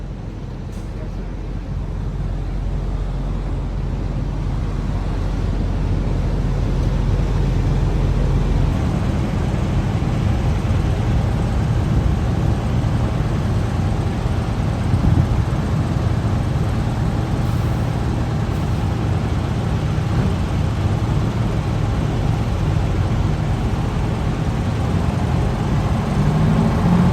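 A 1980 Freightliner FLC truck with a 475 8V92 diesel engine pulling out at a truck stop: a loud, steady engine rumble that swells after the first few seconds and holds for the whole stretch, with no talk.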